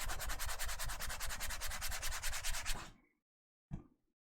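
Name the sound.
fingers rubbing textured PEI-coated print sheet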